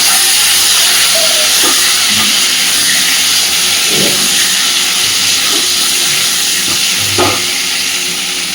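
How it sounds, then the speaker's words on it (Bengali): Pointed gourd (potol) pieces frying in hot oil, a steady loud hiss and sizzle throughout, with a few soft clinks and stirring knocks scattered over it. "খুব ভালোভাবে পটলগুলো ভেজে তুলে নেব।"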